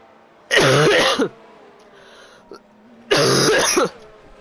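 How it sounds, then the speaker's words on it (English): A man coughs and clears his throat in two loud, harsh bursts close to the microphone, separated by a quiet pause with a faint click. "My cough's absolutely just over the roof today"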